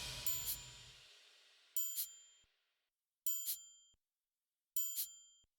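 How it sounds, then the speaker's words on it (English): Four bright metallic strikes ring out at steady intervals, each a clear triangle-like ding with a quick shimmer, the first over a brief low rustle. "I added a triangle and a shaker to go with the triangle."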